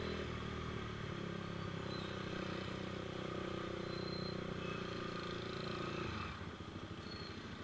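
Steady engine drone of a motorcycle riding along a road in Medan, Indonesia, loud and continuous, easing off near the end.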